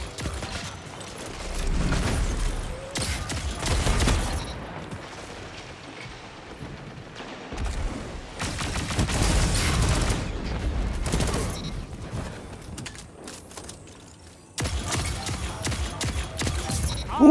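Heavy gunfire and blasts in an online shooter match, with loud bursts and booming hits repeating across the stretch, including a grenade explosion, broken by quieter gaps.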